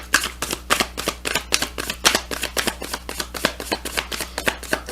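Light Seers Tarot cards riffle and slap together in a steady rhythm of repeated shuffles, close and crisp, with no talking over them.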